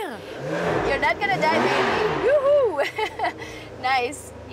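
An Italian sports car revs hard, its engine note rising and falling in loud sweeping surges, with occasional higher whines, while people talk excitedly over it.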